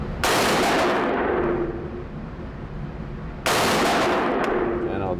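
Loud, close rifle fire from a Tommy Built TG36K, an HK G36 clone, on an outdoor range: two bursts of rapid shots, the first trailing into a long ringing decay before the second burst starts.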